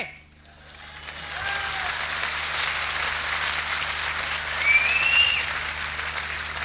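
Audience applause fills a live comedy show in Ludhiana, a dense steady clapping that swells slightly toward the end, with a faint whistle rising above it near the close.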